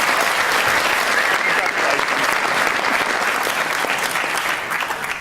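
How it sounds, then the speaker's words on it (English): Dense, continuous applause from a debate audience fills the hall, loud and even throughout, with only a slight fade toward the end. "That's got to be worth a round of applause."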